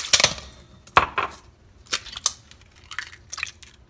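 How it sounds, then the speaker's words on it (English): Henny eggs being cracked for a Hennessy pumpkin pie: a few short, sharp crisp cracks and taps spaced across a few seconds, close and clear with no talking. "You're gonna crack the henny eggs."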